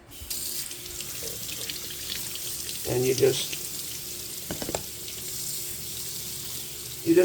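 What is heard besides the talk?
water running from a sink tap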